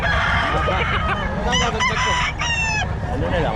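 A Hatch gray gamefowl rooster crows loudly at a chicken seller's stall in Bocaue. Two drawn-out crows stand out over a backdrop of clucking fowl and low ambient noise.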